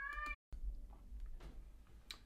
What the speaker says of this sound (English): And that's my cat chiming in.